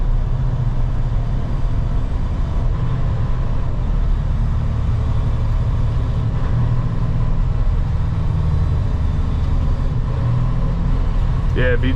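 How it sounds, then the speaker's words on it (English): A loaded semi truck with a tanker at 80,000 lbs, downshifting near a road-closed construction site, gives a steady, loud low diesel engine drone with a gear change across the whole stretch. "I'm downshifting it myself because if I didn't, it wouldn't."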